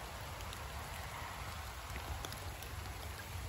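A rain-swollen creek flows steadily with a constant, soft broadband rush of water, evenly loud throughout with no talking.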